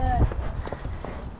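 Horses walk along a trail, their hooves clip-clopping in a quick, uneven patter beneath voices talking close by.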